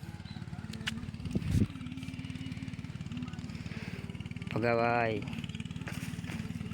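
A tractor engine chugs in a steady, low rhythmic putter throughout, close by, with a brief louder revving surge near the end; people talk over it.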